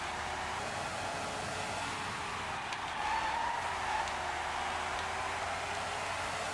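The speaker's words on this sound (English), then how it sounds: "Oh yeah, bit of a drift into that one, very nice." A race car drifts through a corner in Formula 1 97 at Portugal, its engine droning steadily while a brief tire skid rises midway, fairly quiet and without speech.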